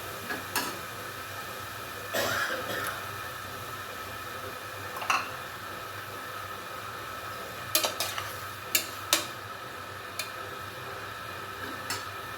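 Mushrooms for a biryani stirred in a pan with a spoon, giving scattered clinks and scrapes against the metal over a steady background hiss.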